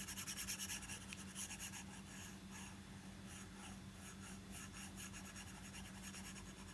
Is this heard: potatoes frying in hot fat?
no